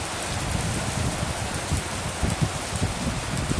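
Steady rain falls outdoors, a dense even hiss with scattered heavier drops pattering nearby, continuing without a break.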